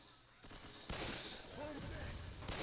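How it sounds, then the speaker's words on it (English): Gunshots in Left 4 Dead 2, a few sharp cracks and short bursts that grow louder after a quiet start, with a voice speaking between and over the firing. "Somebody just shot right past me"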